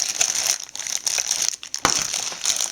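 Plastic packaging around Acer E110 phone accessories crinkles and crackles up close, in busy irregular bursts with a few sharper crunches, and no voice over it.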